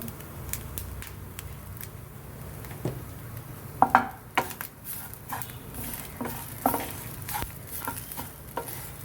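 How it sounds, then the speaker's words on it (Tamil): Spices fried with asafoetida in a pan, stirred with scattered clinks and scrapes over a soft, steady background sizzle that stays fairly quiet throughout. "நல்லா கொஞ்சம் நல்லா வறுப்படணும் கொஞ்சம் பெருங்காயத்தூள் சேர்த்துடணும்"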